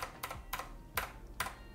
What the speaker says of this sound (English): overall the typing experience feels very, very tactile, clicky, and crisp